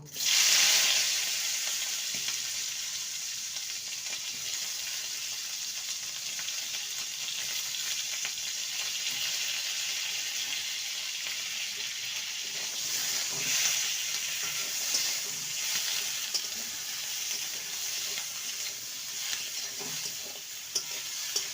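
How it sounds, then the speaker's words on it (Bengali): Square-cut capsicum, onion and tomato sautéing in a pan, giving a steady, fairly quiet sizzle with soft stirring scrapes throughout and no voices. "এবারে ক্যাপসিকাম পেঁয়াজ আর টমেটো স্কোয়ার করে কেটে নিয়েছি সেগুলোকে সামান্য দু মিনিট সতে করে নেব"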